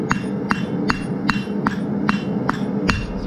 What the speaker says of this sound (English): I'm going over this side of the anvil. I'm not gonna hit super hard thinning this down.